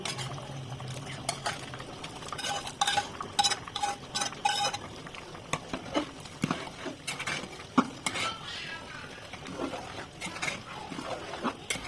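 A spoon scrapes and stirs cooked beef through half-boiled rice in a pot for Old Dhaka tehari, with irregular clatters, scrapes and knocks against metal over several seconds, close and moderately loud, no talk.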